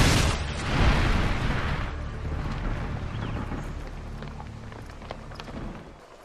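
Predator missile strike in Modern Warfare 2 gameplay: a loud, close blast at the start, a deep rumbling boom that swells for about a second, then a long fading rumble with scattered debris pops.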